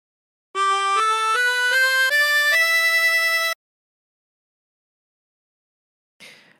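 A harmonica plays a short phrase of God Rest Ye Merry Gentlemen with bends, a run of rising reedy notes stepping upward to a held tone, heard alone and clear, followed by silence and a faint brief sound at the end.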